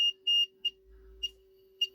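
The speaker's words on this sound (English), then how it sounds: "It's beeping as long as the LED is staying on." Electronic buzzer on a 4017 and 7414 decade counter circuit gives five short, sharp, high-pitched beeps at uneven intervals over a steady low hum.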